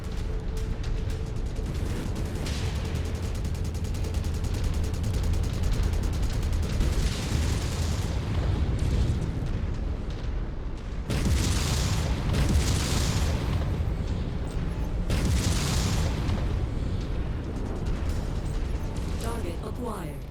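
Explosions blast apart a tank in the MechWarrior 5 video game, with repeated heavy booms and rumbling bursts over continuous mechanical battle noise, several big blasts clustered in the second half.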